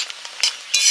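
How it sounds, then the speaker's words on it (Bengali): Lentil dumplings (bori) frying in hot oil, brief bursts of bright crackling sizzle that swell and fade across one second, close and fairly loud with no one talking. "বড়িগুলো ভেজে নিচ্ছি"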